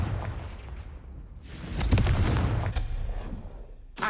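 Confringo fire spell from the Hogwarts Legacy video game, a booming blast that swells near the two-second mark and trails into rumbling debris, with a sharp burst at the very end.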